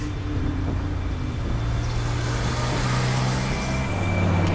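A car drives through a movie chase scene with a continuous engine roar and road noise, with low tones that shift pitch as it speeds along.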